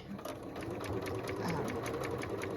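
A sewing machine stitches the edge of a denim jacket pocket in a steady, rapid run heard up close, with a voice talking over the mechanical whir.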